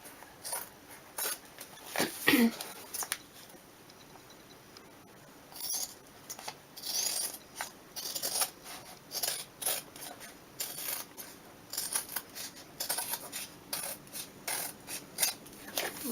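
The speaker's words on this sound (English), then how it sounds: "Just cut right along the edge of your planner." Scissors or a blade cut along the edge of a Franklin Covey planner cover, giving a close series of short rasping snips and scraping strokes that come and go in bursts, with no talking.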